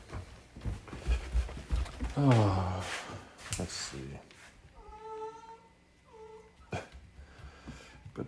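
A cat meows several times at close range, short plaintive calls between bits of a person's quiet talk.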